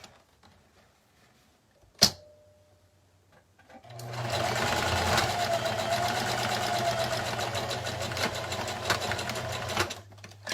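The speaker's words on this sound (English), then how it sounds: "I put it back on my machine and just sew it closed" A sewing machine runs steadily for about six seconds after a sharp click, its motor humming with a rapid mechanical rattle before stopping.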